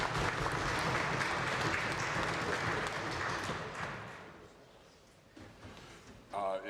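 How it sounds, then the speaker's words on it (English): Warm applause fills the chamber of the Legislative Assembly of Alberta, many hands clapping steadily at moderate distance before tapering off into scattered claps, with a voice starting at the end. "please accept my offer to rise once again and receive the warm applause of the"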